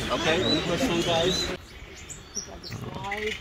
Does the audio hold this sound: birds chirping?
yes